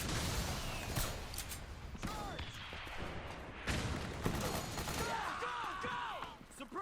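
Gunfire in the stealth action game Metal Gear Solid 4: Guns of the Patriots: scattered shots and thuds in a busy firefight, fairly faint and mixed with voices and game effects.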